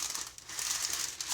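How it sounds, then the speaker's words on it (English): Wax paper crinkling and rustling up close as it is handled before being cut into discs for pressing tobacco, a steady papery crackle with no talk. "going to cut some wax paper into circles for the discs."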